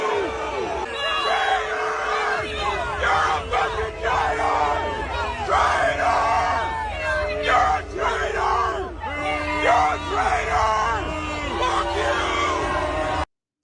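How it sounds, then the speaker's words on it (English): Huge stadium crowd at the Super Bowl halftime show, a dense roar of yelling and whooping that rises and falls in loud surges for the whole stretch, with no clear speech standing out. "No, Trump got booed."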